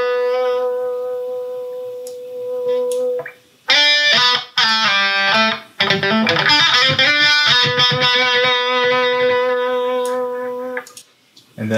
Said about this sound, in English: Then the wah pedal.